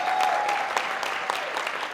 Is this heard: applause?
yes